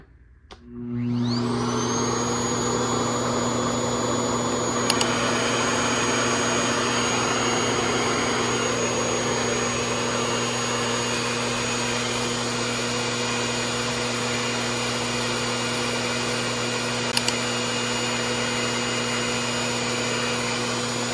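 A steady motorized whir starts up after a brief moment and runs continuously at a constant pitch, loud and close, like a Revair vacuum-powered hair dryer blowing through thick type 4 natural hair.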